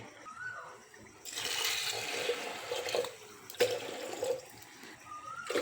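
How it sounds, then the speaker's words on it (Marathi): Water pours into washed masoor lentils in a pot, a steady, close rushing splash that begins after a quiet moment, with a brief pause and restart midway; no talking. "आता मी त्या शिजवून घेते मसुरा खूप बारीक आहेत आणि अगदी मस्त शिजणार आहेत तर मी त्यात पाणी टाकून घेते"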